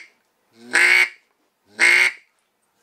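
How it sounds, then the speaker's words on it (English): A duck call fitted with a double reed insert is blown twice, giving two low, raspy quacks about a second apart, each clear and close with silence between them. "or you can go real low quack"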